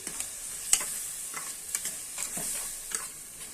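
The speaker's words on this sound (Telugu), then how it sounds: "ఇది ఫ్రైకి ఇలా బాగా వేయించుకోవాలి ఆయిల్లోని బాగా వేయించుకోవాలండి" Chicken frying in oil with salt and turmeric, a steady hiss of sizzling punctuated by irregular light scrapes and taps as it is stirred in the pan, close and moderately quiet.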